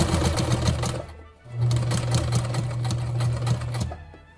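A sewing machine stitches bias tape in two steady runs, with a brief pause between them at a corner where the needle stays down and the work is turned. The motor hum is close and loud.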